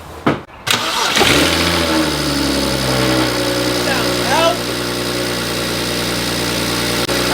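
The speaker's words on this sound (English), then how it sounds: "We're gonna go ahead and start this thing up real quick." A BMW 335i, left sitting for nine months, cranks briefly, catches and settles into a steady idle; a slight rev swells near the middle before the engine drops back to an even hum, loud and close.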